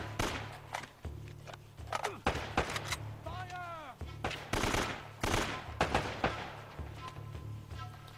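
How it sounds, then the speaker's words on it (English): Video game gunfire from Uncharted: Drake's Fortune comes in scattered bursts of sharp shots with some rapid runs, mixed with game sound effects and voices talking over it. "This gunfire is a little lame."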